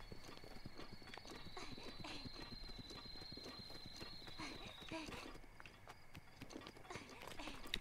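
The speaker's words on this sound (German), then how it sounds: "Das sind auch Pferde und so." Steady clip-clop of horse hooves walking at an even pace in The Legend of Zelda: Breath of the Wild, with a faint whinny and a soft tonal hum in the background.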